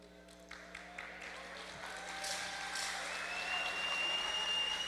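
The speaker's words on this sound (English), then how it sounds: "Let's give them another round of applause," Crowd applause at an end-of-year school service awards ceremony, building from scattered claps into sustained clapping that grows louder over several seconds, with a faint steady hum beneath.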